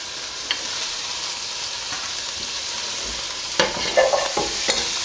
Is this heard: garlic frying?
yes